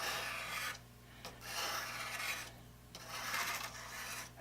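A plane blade's nicker held between thumb and forefinger is dragged across sandpaper, giving three rasping scrapes with short pauses between, close and fairly quiet over a steady low hum.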